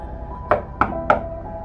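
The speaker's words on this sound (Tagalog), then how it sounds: "Kaya lakas loob akong kumatok." Three sharp knocks on a door, evenly spaced and fairly close, each a crisp rap standing out over a faint background hum.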